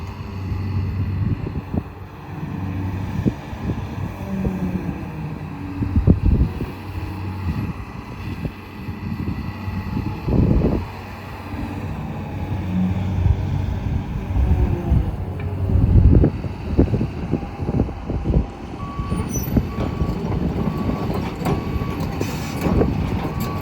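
A John Deere 250G long reach excavator engine runs steadily at a distance, a low diesel drone with hydraulic swells and occasional louder surges, wind noise around it and a faint beeping near the end.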